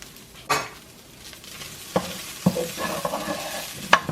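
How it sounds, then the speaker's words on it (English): Taco meat with onion and garlic fries in a very hot skillet, sizzling steadily up close while a spoon stirs and knocks against the pan several times. "Just make sure your skillet is real hot. Add your meat, add your flavors"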